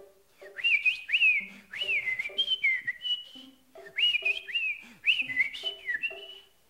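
A man whistles in imitation of a provincial bird call, repeating clear, bright rising and falling notes in short phrases with brief pauses, close and fairly loud, with no other sound.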